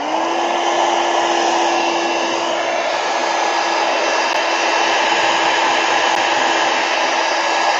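A heat tool drying alcohol ink on an ornament blows with a steady, loud, constant whirring hum that holds unbroken from start to finish.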